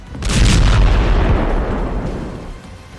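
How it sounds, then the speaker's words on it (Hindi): A single heavy blast from an air strike or shelling in Gaza, a loud deep boom that swells quickly and rumbles away over a few seconds. "गाजा पर लगातार एयर स्ट्राइक हो रही है, ग्राउंड पर बम के गोले गिर रहे हैं"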